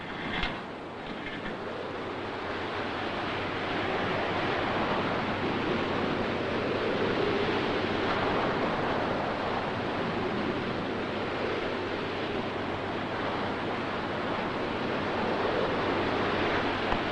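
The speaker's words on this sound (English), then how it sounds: "Looks though we've been hit by a tidal wave." Flood water and surf surging after a tidal wave strikes during a nuclear attack scenario, a steady, dense roar of rushing water and wind that holds for the full stretch with no voices.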